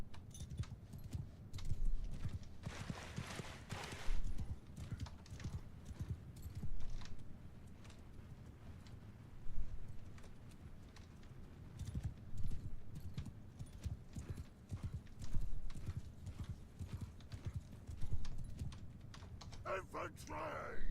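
Cavalry horses gallop in a medieval strategy video game, a continuous rumble of hoofbeats rising and falling in clustered bursts, with a player talking intermittently over it.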